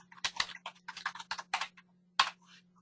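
Bursts of keystrokes on a computer keyboard, typed in quick irregular clusters with short pauses between and a low steady hum underneath, close and fairly quiet.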